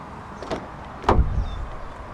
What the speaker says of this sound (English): And to unlock the car, just press the black button again